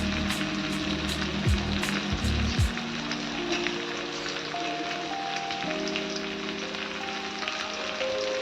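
Red chili powder and turmeric sautéing in oil on a low flame for dal khichdi make a steady soft sizzle and crackle throughout, with a few sharp clinks of a utensil near the start.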